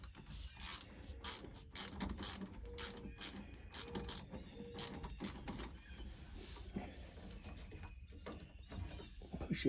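A ratcheting T-handle wrench clicks nearby in short, rapid bursts of metallic pawl ticks, alternating with brief pauses, with no talking.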